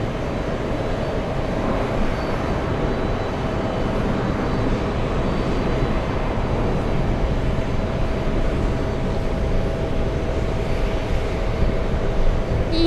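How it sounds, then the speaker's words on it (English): A JetBlue airliner at JFK airport makes a steady, broad jet-engine roar and rumble that lasts throughout, heard from some distance outdoors. "We got a JetBlue down here. Getting ready to head out."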